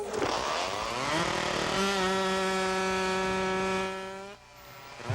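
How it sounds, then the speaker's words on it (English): Chainsaws at the Lumberjack Days logging event in Hayward roar to life. The engine pitch climbs and then holds a loud, steady whine for a few seconds before cutting off sharply. "Gentlemen, start your chainsaws."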